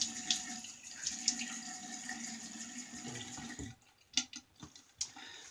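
Running tap water rinses an A2 Auto Strop razor at a bathroom sink, a steady close hiss of flowing water for several seconds that thins out into a few brief splashes and drips near the end.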